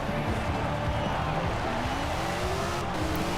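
A Toyota MR2 engine in Forza drones with rising gear pitches over a constant wash of road noise, with faint squeals of tires through turns.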